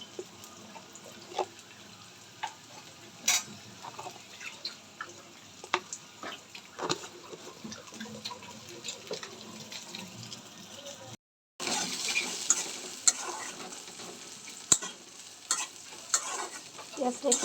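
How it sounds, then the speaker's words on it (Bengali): Vegetables sizzling and being stirred in a black iron wok with turmeric, salt and chili, soft frying hiss broken by frequent scraping and clinking spatula strokes, with a brief cut and louder sizzle near the end. "সবজিগুলো একটু ভেজে নিচ্ছি হলুদ এবং লবণ মরিচ মিশিয়ে"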